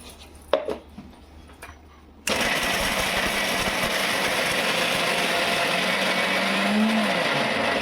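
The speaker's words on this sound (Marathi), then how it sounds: "थोडं थोडं मिक्सरमध्ये टाकून बारीक करून घेऊ" A few clicks and clatters, then a mixer grinder starts abruptly and runs loud and steady, a harsh whirring grind as it grinds fresh coconut.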